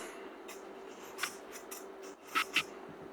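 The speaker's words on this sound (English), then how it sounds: "so just cut down around the core." A knife cuts a ring around the core of a cabbage, giving quiet, scattered crisp crunches with a few sharper snaps toward the end, close and otherwise quiet.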